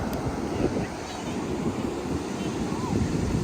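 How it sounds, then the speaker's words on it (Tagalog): Ocean waves wash onto a beach in a steady, continuous roar with some wind buffeting the microphone, and people talk over the surf. "Nakos po ng alon."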